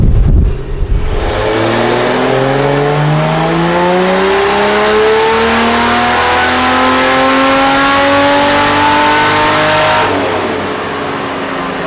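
A 2JZ-powered drift car held at its lowest boost setting, around 10 psi, revs hard and loud for about nine seconds, engine pitch climbing steadily before cutting off and settling to a lower idle.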